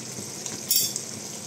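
Hot water poured into a pan of chicken being fried for a coriander country-chicken curry, a sudden brief hiss and splash rising over a soft background sizzle, with faint utensil clinks and no talking.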